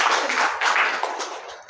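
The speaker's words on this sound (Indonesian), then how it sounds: "Tepuk tangan untuk Bu Nurul." Brief applause from a seated group of teachers and staff at an indoor public speaking workshop, a dense burst of clapping that fades toward the end.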